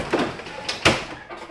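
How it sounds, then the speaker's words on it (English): A pull-out drawer at the bottom of a fridge slides open, with a few quick scraping swishes and a soft knock, close and brief. "Then we've got our fridge too, pull-out drawer on the bottom."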